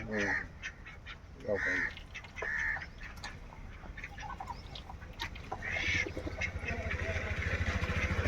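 Domestic ducks quack in loud, nasal bursts at a duck farm, several calls close by, with other birds and a steady outdoor background rising toward the end.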